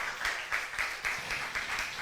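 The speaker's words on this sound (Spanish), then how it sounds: "Dele fuerte palmas al Señor si usted lo cree en esta mañana." A church congregation applauding during a Spanish-language worship service, rhythmic group clapping in a steady beat of roughly four claps per second, moderately loud and close, with no talk over it.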